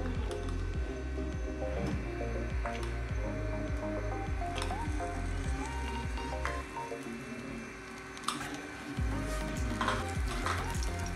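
Garlic-ginger paste browns in about half a cup of cooking oil for mutton karahi, giving a low, steady sizzle with scattered crackles and soft scraping pops throughout.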